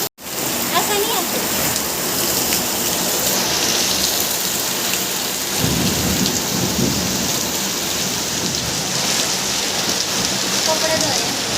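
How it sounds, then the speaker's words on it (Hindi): Steady heavy rain pouring down outdoors, a dense continuous hiss of drops hitting surfaces, loud and close throughout, with a brief low rumble partway through. "गाइस देख सकते हैं अपना बारिश हो रही है"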